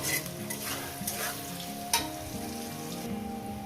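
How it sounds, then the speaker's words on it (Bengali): Chopped onions with salt and spices frying over medium gas, a steady close sizzle under frequent stirring scrapes, with one sharper knock partway through. "এভাবে এটাকে দু তিন মিনিট পেঁয়াজটাকে আমি ভেজে নেব"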